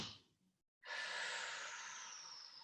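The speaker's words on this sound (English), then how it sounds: "So here we go, breathe in." Someone takes one deep inhalation during a core breathing exercise, a long airy breath that swells after a short silence and holds steady.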